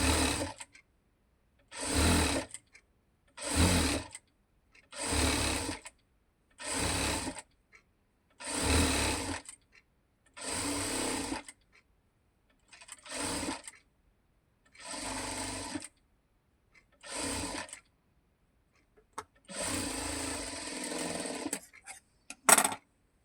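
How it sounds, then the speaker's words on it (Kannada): A sewing machine stitches one side of a square neckline with piping, running in about eleven short, steady bursts separated by brief silent pauses, close and clear with no talking. "ಒಂದು ಸೈಡು ಫಸ್ಟು ಹಿಂಗೆ ಸ್ಟಿಚ್ ಮಾಡ್ಕೊಂಬಿಡಿ"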